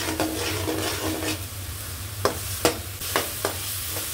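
Onions and lemongrass fry in oil for a Malaysian prawn sambal, a steady low sizzle broken by a few sharp scraping clicks of a stirring spoon near the end, no speech.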